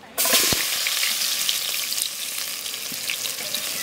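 Onions frying in hot oil with mustard seeds and urad dal in a pan for village-style prawn gravy, a steady loud sizzle that starts abruptly, with a sharp clack from stirring early on.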